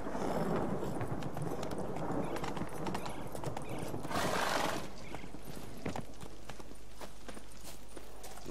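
Roach the horse in The Witcher 3 trots with steady, close clip-clopping hooves over a constant ambient bed, with a brief whinny midway and no talking.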